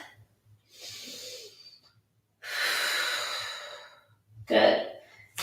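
Slow, deep breaths during a yoga back stretch, a long airy inhale followed by a drawn-out exhale and a sharper breath at the end, close and soft in a quiet room.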